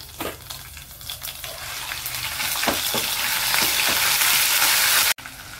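Cumin seeds, whole spices and ginger-garlic paste frying in hot oil for an egg korma, a loud close sizzle and crackle with stirring scrapes that builds in intensity and cuts off abruptly near the end.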